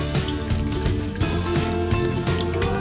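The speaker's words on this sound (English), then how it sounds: "just to take out the starch, I'm adding cold water" Cold water pours steadily from a tap onto grated potatoes in a kitchen bowl, a continuous close splashing rush over a faint hum, with no one speaking.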